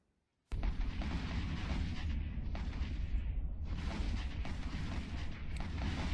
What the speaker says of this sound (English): Black Ivo decides to launch a salvo of missiles my way